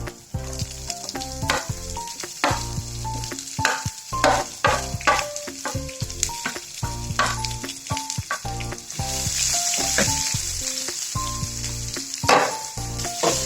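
Chopped onion and green chili stir-fried in a pan for a quick dosa batter, with steady sizzling and repeated scraping strokes of a spoon, close and fairly loud, no voices.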